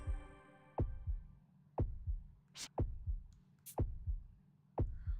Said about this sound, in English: the heartbeat sound effect keeps going even in the save